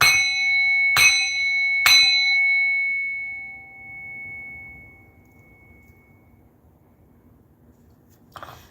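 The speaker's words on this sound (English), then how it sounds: "let's bang this bell" A bell is struck three times in quick succession, each ring leaving a long, clear metallic tone that slowly fades, followed by a faint knock near the end.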